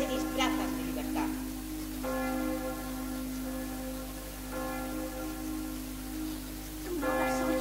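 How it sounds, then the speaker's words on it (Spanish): Three church bell strokes sound during an amateur stage play at a theater gala, each one a resonant ringing tone that decays slowly, struck at moderate distance over quiet room ambience. "¿Tú no las oyes? Tres campanas."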